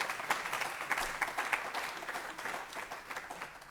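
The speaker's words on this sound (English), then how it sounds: "that really deserves an applause" Brief, modest applause from a small audience at a Drupal tech talk, a light patter of clapping that is faint and somewhat distant, thinning out over a few seconds.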